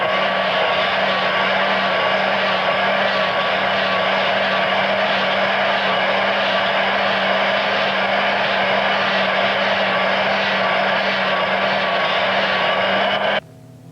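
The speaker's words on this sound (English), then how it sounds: "I can help myself by polishing it with a hand grinder" A hand grinder polishes a steel die in a Sheffield die sinker's workshop, giving a loud, steady high-pitched whine that runs unbroken and then cuts off abruptly near the end.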